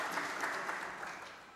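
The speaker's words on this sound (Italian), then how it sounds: "Ha sentito l'applauso della sala" Audience applause fills a conference hall at a corporate welfare convention, a steady, dense clatter of many hands clapping that holds evenly for its whole length and fades slightly toward the end.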